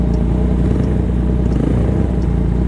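A Suzuki GSR400 motorcycle engine idles with a steady, deep exhaust rumble, close and loud, with faint rhythmic pulsing and no talking.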